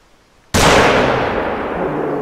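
Rifle fired at a bear in the hunting video game theHunter: Call of the Wild, a single loud sudden blast with a long rolling echo that stays strong to the end, no talking.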